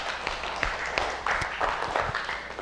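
An audience claps together after an icebreaker session at a presentation, a steady patter of hands lasting a few seconds with occasional sharper claps near the front.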